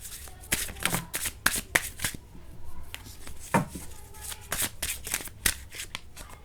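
Tarot cards being shuffled by hand close up, quick riffling bursts and soft flicks in uneven rhythm, fairly quiet, with faint talking in the background.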